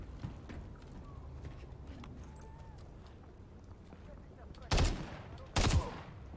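Enemy gunfire in Call of Duty Modern Warfare 3, with distant rattling shots under low battle ambience and two loud, close bursts near the end.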